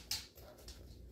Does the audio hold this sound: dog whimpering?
yes